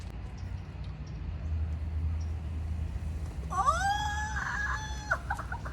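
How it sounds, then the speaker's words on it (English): A cat gives one drawn-out, wavering meow partway through, close by and clear over a steady low background rumble outdoors. "I think it's that cat."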